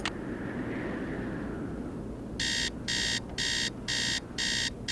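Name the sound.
alarm clock ringing in the video game Nancy Drew: Treasure in the Royal Tower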